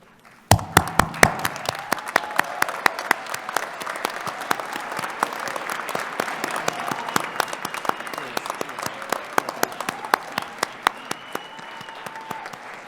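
Graduates at a Thunderbird convocation ceremony give a long, loud round of applause. Crisp, close hand claps form a dense, sustained wash that starts suddenly and holds at an even level throughout.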